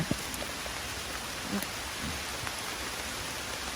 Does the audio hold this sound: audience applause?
no